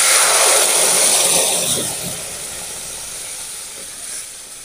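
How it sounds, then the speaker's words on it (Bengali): Ripe papaya pulp hits hot ghee in a pan and sizzles loudly with a broad, close hiss that starts strong and gradually settles into a steady, softer frying crackle. "ঘিটাও গরম হয়েছে, ঘিতে দিয়ে দেবো পেঁপের মাড়টা।"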